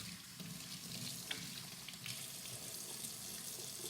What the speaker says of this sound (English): I'm gonna come wash my hands because egg and meat, and plus the crackers all over it.